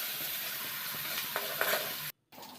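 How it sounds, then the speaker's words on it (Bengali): Onion fries with ginger, green chilli and garlic paste under a dense, hissing sizzle broken by spoon scrapes. The sound cuts out briefly near the end and then resumes. "এবার দিয়ে দিব আদা, কাঁচা লঙ্কা, রসুন বাটা দিয়ে ভালো করে ফ্রাই করে নিব পেঁয়াজের সঙ্গে মশলাটা।"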